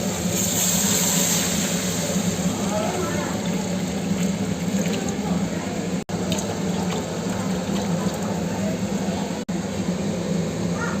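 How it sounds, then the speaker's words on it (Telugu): Water poured into a cooking pot for upma, a steady close gush of running liquid lasting throughout, fairly loud and uninterrupted apart from two brief cuts. "ఇది వాటర్ పోసుకుంటాం కదా"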